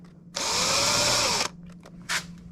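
A power drill whirs for about a second while boring a hole for a homemade underspin fishing lure, the bit's pitch bending as the drill is angled, then a short second burst after a pause.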